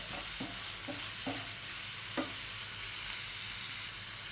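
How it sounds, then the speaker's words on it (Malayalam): Onion and green chillies sauté in a pan for a Kerala pappadam thoran, giving a steady, soft sizzle with a few sharp knocks of a spoon stirring against the pan, close by and without speech. "ഇതെല്ലാം നമ്മൾക്ക് നന്നായി ഒന്ന് വഴറ്റിയെടുക്കാം"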